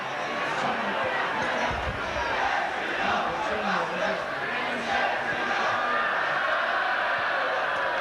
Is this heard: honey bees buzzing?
no